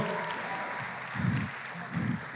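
Short bursts of audience clapping, swelling twice in quick succession, fairly faint and at a distance.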